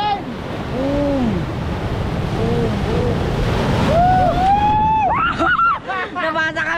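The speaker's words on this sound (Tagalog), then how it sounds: "Laki ng alon, oh." Big ocean waves crash and roar in a continuous loud wash close to the microphone, heavy with wind buffeting, while people shout and call out over the surf.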